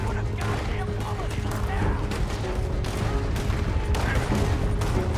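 Gunfire erupts during a stagecoach robbery in Red Dead Redemption 2, with dense, overlapping shots and booms over a constant loud din, while voices shout in the middle of the chaos.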